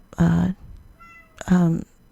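A house cat meows twice, loud and close, with a short pause between the two drawn-out calls, heard in a room during a podcast recording.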